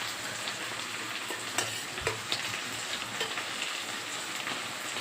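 Food fries in hot oil with a continuous crackling sizzle, dotted with small pops and spits, at a moderate level with no voices.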